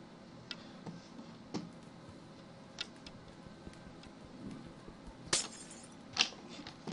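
Glass blocks being broken in a video game, a series of sharp, fairly faint clinks and taps scattered over several seconds, two louder crisp shattering hits near the end, with no talk.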